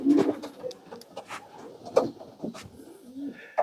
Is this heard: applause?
no